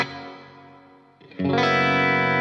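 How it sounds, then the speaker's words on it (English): An 80s-style electric guitar runs through a stereo 224 digital reverb plugin: a sustained chord decays into a long reverb tail, then a louder, brighter chord rings out, heard alone with no voices. "let me play you what it sounds like with the reverb in stereo"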